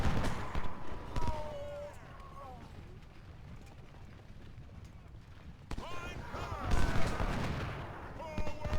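Booming cannon and artillery fire in Ultimate General: Civil War, a Civil War strategy game, with bursts of broadband blasts at the start and again near the end over a rumbling battlefield bed, mixed with speech-like voices.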